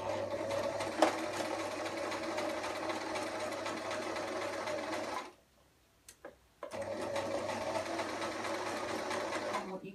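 A sewing machine stitches steadily all the way around the seam of a stuffed fabric toy, running continuously, pausing briefly for a couple of seconds midway, then resuming at the same steady pace.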